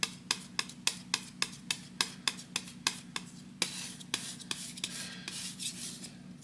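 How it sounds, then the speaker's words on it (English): A palette knife scrapes and spreads oil paint in a rapid series of short, crisp strokes with a steady rhythm at close range, blending blue and brown on a palette. "scraping and spreading"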